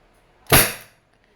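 A Wingun 702 airsoft revolver with a six-inch barrel fires once in double action, giving a single sharp, loud crack with a short decay, near and alone, with no talk.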